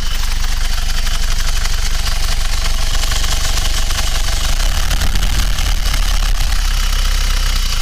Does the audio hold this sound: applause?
no